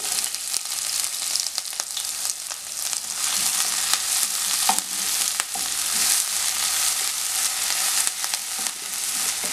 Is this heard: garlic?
yes